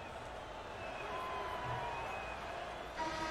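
Steady roar of a capacity arena crowd at the Delta Center during a basketball video game, Orlando Magic at Utah Jazz, a dense continuous murmur and cheer with a brief swell near the end, no speech over it.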